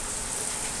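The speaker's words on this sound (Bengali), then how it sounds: "দেখো কি হারে বৃষ্টি হচ্ছে" Heavy rain pouring down as a dense, even hiss that stays steady and moderately loud for the whole short stretch, with no talking.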